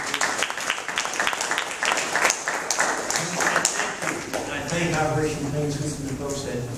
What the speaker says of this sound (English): So a round of applause for all these.